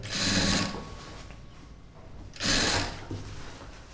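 Two short, close bursts of sewing machine stitching on a blouse lining, each under a second, separated by a quiet stretch with faint mechanical handling noise; no one speaks.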